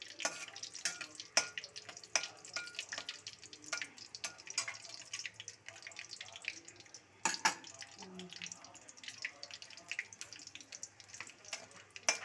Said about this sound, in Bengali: দুটো শুকনো লঙ্কা দিলাম, আর গোলমরিচ আর গোটা গরম মশলা আমি ফোড়নে দিলাম।